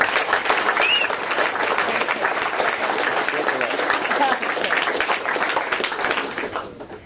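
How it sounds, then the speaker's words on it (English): Warm applause from a recovery-meeting audience in Belgrade, steady dense clapping for a guest speaker, sustained for several seconds with faint voices mixed in before it begins to thin out at the end. "a nice, warm round of applause for Nikoleta D"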